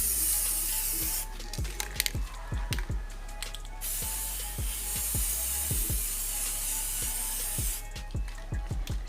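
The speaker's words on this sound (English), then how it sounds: "I'm going to give it 3 coats of spray paint" White spray paint hisses from an aerosol can onto a vase in loud sustained bursts, broken by brief pauses and the sharp clicks of the nozzle.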